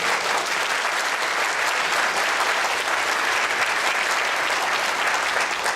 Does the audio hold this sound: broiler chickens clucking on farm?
no